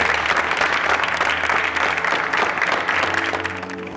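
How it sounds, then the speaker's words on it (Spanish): Steady applause from an audience after auditions in Gualeguaychú, dense clapping throughout that tapers slightly at the end. "Un aplauso para todos."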